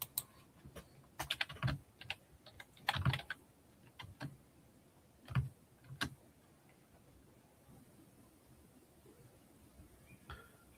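Keys on a computer keyboard tapped in quick irregular bursts of clicks with short pauses between, fairly close and otherwise quiet, no talk.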